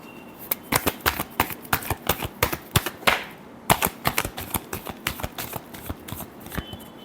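Tarot cards riffle and snap in a rapid, uneven run of crisp shuffling clicks, close and fairly loud, with no voices.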